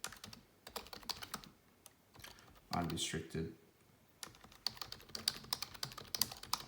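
Typing on a Microsoft Surface Pro 7 keyboard, a close, quick run of light clicking keystrokes that pauses while someone speaks briefly, then resumes.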